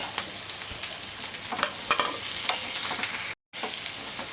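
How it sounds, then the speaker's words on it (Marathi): Green peas fry with chopped onion, curry leaves and asafoetida in a pan, giving a quiet, hissing sizzle broken by scattered light stirring scrapes and one brief drop to silence. "यातच आपण परतून घेऊया वाटाणे पण"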